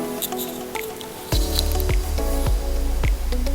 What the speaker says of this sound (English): the bag is just going to be cut open, water poured out